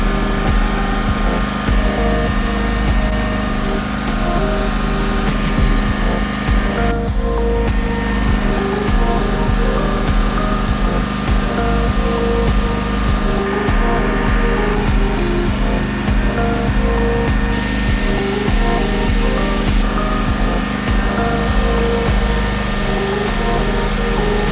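An Exmark 48 lawn mower and a string edger running during spring lawn care, a constant loud droning engine with steady whining harmonics throughout, with no pauses.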